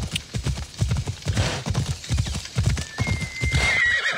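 Hoofbeats of a horse in the video game Assassin's Creed Odyssey clop rhythmically up close, followed by a loud whinny near the end.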